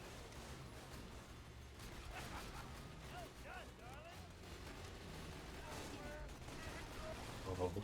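Turrets fire at enemies in a sci-fi shooter video game, with rapid bursts of gunfire and blasts mixed into dense game sound effects and music at steady volume.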